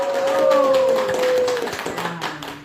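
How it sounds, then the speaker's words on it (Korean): A studio audience claps on the Korean TV talk show Achimmadang as a steady patter of many hands. A sustained tone rides over the start, and the applause thins out toward the end. "박수!"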